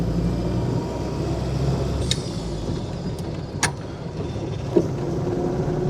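A 1937 Austin Seven Ruby drives along with a low, steady engine rumble and cabin noise, broken by a few sharp clunks and rattles from inside the car.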